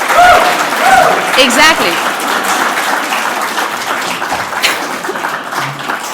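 A conference audience applauds loudly as a former Australian prime minister returns to the stage. The applause is dense and sustained across the whole stretch, with a voice speaking briefly over it at the start.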